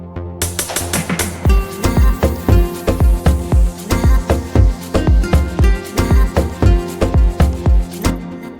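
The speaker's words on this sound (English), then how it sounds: "It's a plug bass from Nexus" A Nexus plug bass line in an Afro house track pulses in short, punchy low notes on a steady rhythm, loud and up front with percussion, no voices.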